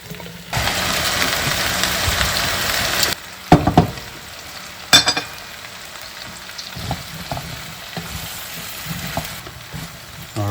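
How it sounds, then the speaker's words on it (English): Sweet potatoes tumble into a soup pot over caramelized red curry paste, setting off a loud, steady sizzle for a few seconds, then a splashy clatter and softer frying crackles. "So now it's time to add the potatoes. So let's get these in here."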